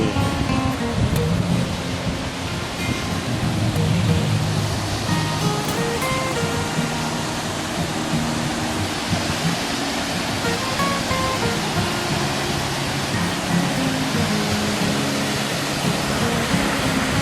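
Waterfall in Wisłoczek in the Beskid Niski hills, a loud, continuous rushing roar of falling water, close and steady throughout with no voices.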